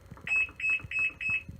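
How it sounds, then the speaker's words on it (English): A Giantex washing machine's beeper sounds four shrill, evenly spaced electronic beeps close by, over a faint background murmur. "So when it goes off, it gives you like 5 long beep, beep, beep, beep, beep."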